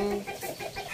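Chickens cluck in short, busy bursts, close by and fairly loud, with a few bird calls overlapping throughout.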